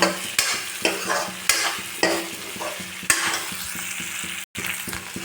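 Broiler chicken curry with red chilli fries and is stirred in a pan, repeated scraping stirs every half second or so over a steady close sizzle, no voices.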